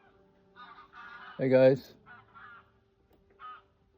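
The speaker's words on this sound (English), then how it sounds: "oh, here are the geese again" Geese honk outdoors in a short burst of loud, nasal calls with one strong honk in the middle, then a fainter honk a moment later. Someone briefly speaks in a greeting nearby.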